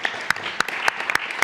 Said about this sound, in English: So maybe we give her a clap here.